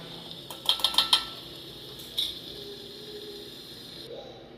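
A spoon stirs a Telugu-style broad bean (chikkudukaya) curry in a metal pan, tapping and clinking against the rim in a quick cluster of knocks, then one more clink, close over a steady background hiss.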